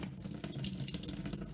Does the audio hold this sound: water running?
yes